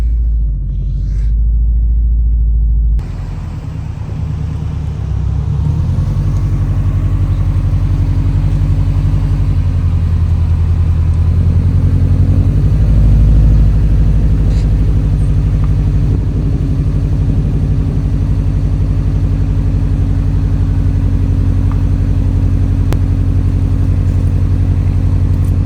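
A Subaru WRX STI Hawkeye warming up, its engine idling in a loud, steady, close rumble that carries on unbroken throughout.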